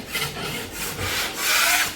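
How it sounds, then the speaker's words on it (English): A drywall knife scrapes back dried joint compound on a wall in steady rasping strokes, close and fairly loud, growing stronger toward the end with no talking. "I'll just scrape it back"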